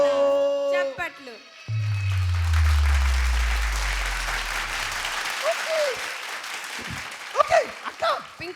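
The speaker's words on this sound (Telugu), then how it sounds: "బంటికి కొట్టండి గట్టిగా చప్పట్లు" An audience claps for Bunti the puppet at a Hyderabad puppet show, sustained applause under a deep low tone at first, with voices talking and exclaiming over the clapping toward the end.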